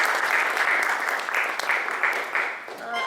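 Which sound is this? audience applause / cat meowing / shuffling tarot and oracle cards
audience applause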